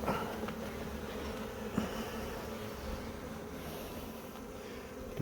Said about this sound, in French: Bon bah allez, c'est un petit essaim.